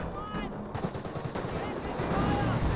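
Rapid machine-gun bursts and gunfire in the strategy game Company of Heroes 1, fairly faint and continuous across the battle noise.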